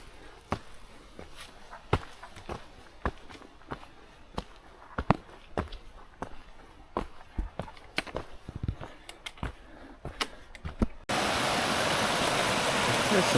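Footsteps crunch steadily along a hiking trail on the Avalon Trail before a rushing mountain stream suddenly takes over, its constant loud wash of water filling the final seconds.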